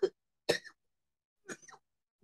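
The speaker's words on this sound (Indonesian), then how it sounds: "aduh maaf, lagi batuk." Three separate coughs from one person, short and fairly close, with brief silent gaps between them and no talking.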